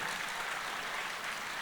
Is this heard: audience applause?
yes